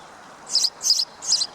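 A sparrow gives three short, bright chirps, evenly spaced and fairly close, against quiet background hiss.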